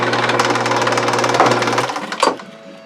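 A steady, loud mechanical whirring drone of a drill press running, a brief higher grinding burst near the end as the bit bites through a plastic juice bottle cap.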